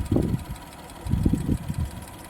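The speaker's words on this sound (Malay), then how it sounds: "Sound ng gari." A Maruti Suzuki Alto 800 BS6 engine runs after an overhaul, giving low, uneven chugging bursts that swell and fade in two clear pulses with a brief lull between; no one speaks.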